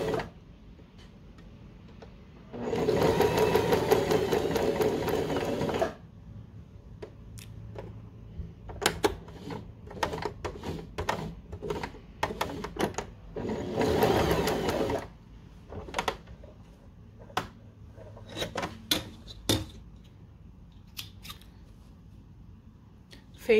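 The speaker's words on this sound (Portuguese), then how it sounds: "eu vou passar aqui a costura e já finalizamos" Sewing machine stitching the seam of a satin bonnet: two sustained runs of steady machine whirring, with scattered clicks and handling noises of fabric and thread between and after them.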